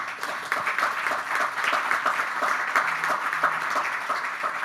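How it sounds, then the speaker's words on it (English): Audience applauding a panel at a discussion event on local democracy, a sustained crowd clapping at moderate level that holds steady throughout. "Let's applaud them once again."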